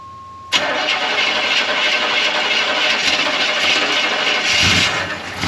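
A 1985 Chevrolet Suburban engine cranks and fires almost at once after a brief tone, then settles into a loud, steady idle close by, with no talking.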